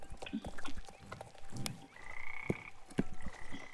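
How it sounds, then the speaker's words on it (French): Repeated frog croaks in a video game's woodland, short and rhythmic, mixed with other chirpy creature calls in a busy outdoor ambience at moderate volume. "Il y a une grenouille."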